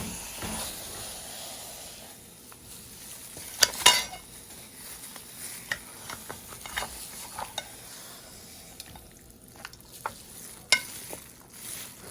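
Browned oxtail pieces are stirred in a pot, with soft scraping and occasional sharp clinks of a utensil against the metal over a faint background sizzle.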